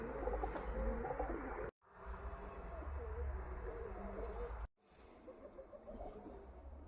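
Racing pigeons cooing just before a timed special race release, a steady low murmur of many birds close by with brief cuts of silence, no talk.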